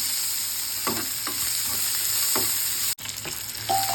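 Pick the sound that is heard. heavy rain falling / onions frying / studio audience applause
onions frying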